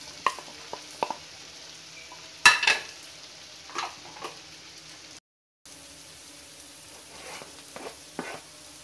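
Chopped small onions, garlic and ginger frying in oil for a Karimeen Polichathu pearl spot fish dish, a soft sizzle broken by scattered utensil scrapes and clinks, one sharper knock partway through and a brief silent gap.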